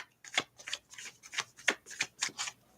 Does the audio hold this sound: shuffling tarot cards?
yes